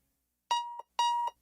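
Two electronic alarm beeps from a Hardee's breakfast radio ad, each a bright sustained tone lasting about a quarter second, separated by a short silence.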